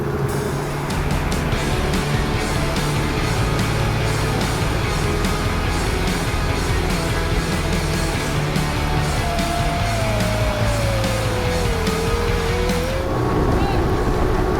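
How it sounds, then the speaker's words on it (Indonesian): A speedboat engine drones steadily and loudly as the boat slams through large river ripples, the roar continuous from start to end, with voices talking over it. "Suasananya lebih memacu adrenalin karena speedboat menghantam riak air yang besar dan sempat meliuk-liuk."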